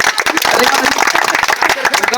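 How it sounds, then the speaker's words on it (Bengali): Audience clapping loudly for a player at an outdoor game where players run across a slippery patch to place a ball, a dense, continuous patter of many hands with crowd voices mixed in. "তো ভাইয়ের জন্য সবাই জোরে করতালি দিবেন।"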